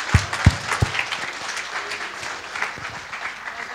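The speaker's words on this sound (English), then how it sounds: "Could you give her another round of applause, please?" An audience at an expo event in London applauds a speaker. A few sharp thumps open a close, moderate round of clapping that carries on steadily.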